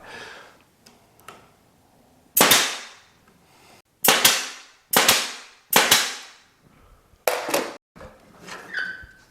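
A nail gun fires nails into a wood piece, five or six loud sharp bangs with ringing decay spaced a second or so apart, preceded by quieter clicks and handling.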